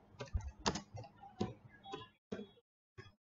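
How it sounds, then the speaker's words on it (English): Keys clatter on a computer keyboard in a short, quiet burst of close taps with uneven rhythm, ending in a couple of separate keystrokes. "Type control panel."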